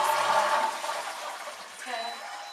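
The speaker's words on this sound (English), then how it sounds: "So flush the loo." A toilet flushes in an accessible bathroom while a toileting sling is in use, the rushing water loudest at the start and then tapering into a softer refill gurgle.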